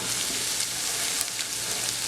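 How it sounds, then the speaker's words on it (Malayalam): Chopped ginger and garlic sizzle in hot oil in a pan, a dense, steady crackling hiss that stays loud and even throughout with no talking. "അതിലേക്ക് നമ്മൾ എടുത്തു വെച്ചിരിക്കുന്ന ഇഞ്ചി വെളുത്തുള്ളി ആദ്യം ഇട്ട് കൊടുക്കുക"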